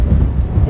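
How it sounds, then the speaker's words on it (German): Wind buffets the microphone in a brief, low, continuous rumble high on the Prora treetop walkway on Rügen. "es windet ein bisschen."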